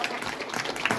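Audience applause at a harvest festival celebration in Muszynka for a performing band, a dense, steady wash of clapping from a crowd at moderate distance.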